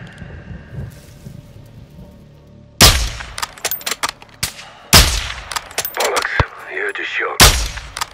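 Gunfire in the Call of Duty MW2 story campaign: a few sharp, loud single shots and short bursts ring out against a quiet backdrop, with a voice speaking between them.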